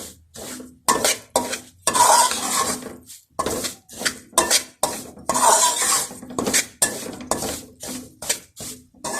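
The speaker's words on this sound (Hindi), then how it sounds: "अब मैंने सूजी को अच्छी तरह भूनना है घी में।" Semolina roasted in ghee in a pan for sweet halwa, heard as repeated loud scraping and clattering stirring strokes against the metal pan, close and rhythmic, with only a faint sizzle underneath.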